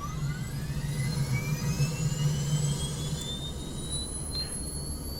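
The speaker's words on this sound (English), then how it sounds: "All we need to do now is hit the engine start switch." A T-45C Goshawk jet engine starts up in Flight Simulator 2024, rising whines climbing steadily in pitch over a low rumbling hum.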